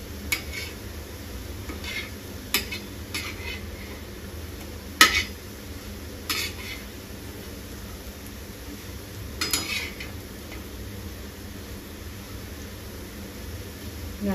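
Food frying on a flat griddle pan is turned over now and then with a spatula. A few light metallic clicks and scrapes sound over a faint, steady sizzle of oil.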